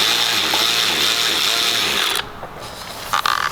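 A Snap-on 1/4-inch extended reach cordless ratchet rated at 350 RPM spins with a close, buzzing motor whir for about two seconds. It stops abruptly and is followed by a few faint clicks and handling noises.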